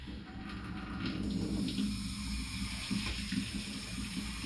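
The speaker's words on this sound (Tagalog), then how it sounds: "itong ating gripo na nakakonekta sa water filter" Water running from a kitchen faucet fitted with a water filter, a steady, soft gushing stream that holds constant throughout.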